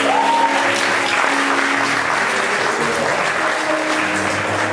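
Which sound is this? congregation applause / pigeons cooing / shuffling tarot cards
congregation applause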